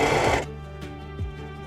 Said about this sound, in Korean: 재봉틀을 이용하면 좀 빨리 되겠죠?